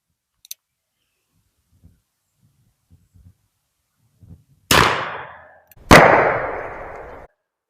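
Two loud, sharp gunshots from .44 Russian hand loads fired at can targets, each with a long ringing decay, preceded by faint clicks and light handling noises.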